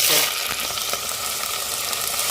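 Loud, close hissing sizzle as a spice mix hits hot coconut oil in a pan, continuous bubbling crackle with no one speaking.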